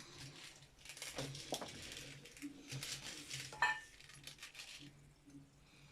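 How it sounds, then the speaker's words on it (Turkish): Dry corn kernels tipped into a pot with a few pinches of baking soda already in it, giving a close run of small clinks and rattles of metal and hard grains over roughly six seconds. "Mısır koyuyorum."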